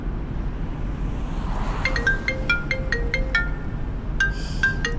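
A phone's melodic ringtone starts partway through, repeating short electronic tones over a steady low rumble of background noise.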